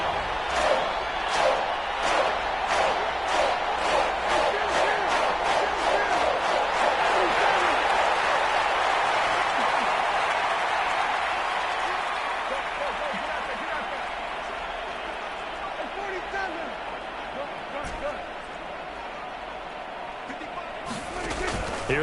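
Football stadium crowd roaring on a third-and-three play, a dense sustained roar with rhythmic clapping early on, gradually easing, while a commentator talks over it.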